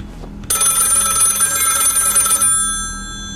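In the horror video game Whispers In The Pines, an old-style telephone bell rings loudly for about two seconds in one continuous metallic burst, then fades into quiet.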